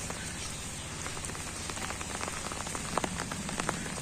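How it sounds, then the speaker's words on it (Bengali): Steady morning rain falls after a night of heavy downpour, a soft continuous patter on surfaces with scattered closer drops, fairly faint and even, with no voices. "সারা রাত প্রচুর বৃষ্টি হয়েছে, এখন সকালবেলা বৃষ্টি পড়তেছে"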